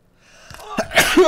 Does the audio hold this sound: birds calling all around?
no